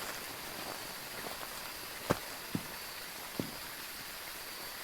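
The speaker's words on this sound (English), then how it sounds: "I just hear rain." Steady rain falling in the video game Phasmophobia, a soft continuous hiss at low level, with a few faint isolated knocks or footfalls breaking through, no talking.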